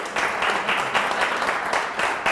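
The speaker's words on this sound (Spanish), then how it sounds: "Un aplauso, ¿no?" A conference audience applauds in a steady, moderately loud patter of many hands that lasts the whole stretch with no voices over it.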